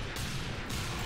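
Continuous gunfire from a Team Fortress 2 match, a dense, loud rattling wash of shots filling the whole moment without pause.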